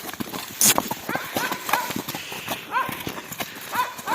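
Hooves of large mares clip-clop steadily and close by as the horses pull, with snorting and voices talking over the rhythmic beat.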